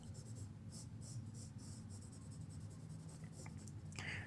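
A blending stump rubs over pencil shading on paper, soft repeated scratchy strokes in a steady rhythm, close and quiet, with a brief sharper scrape near the end.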